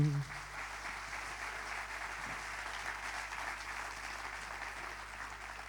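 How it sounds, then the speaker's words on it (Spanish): Applause for the jury at a traditional music contest, a faint, distant, even wash of clapping over a low steady hum, after a brief louder burst at the start. "hai damoslle un forte aplauso e que viva o xurado"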